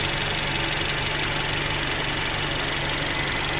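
A Mercedes CLA250 engine runs steadily after a valve spring replacement, one new spring among the originals, giving a loud, continuous mechanical hum with a faint ticking valvetrain under it and no talk.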